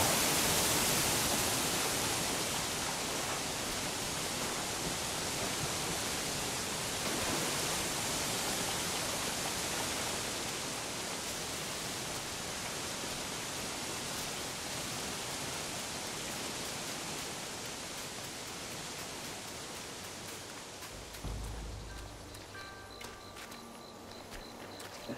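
Constant hissing rush of a waterfall in the video game Black Myth: Wukong, a broad even wash that fades gradually, with a few soft thuds and clanks near the end.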